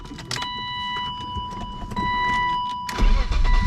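A 1990s BMW E36 cranks and starts after a fuel pump replacement, with a rising engine catch at the end following a high electronic chime and clicks.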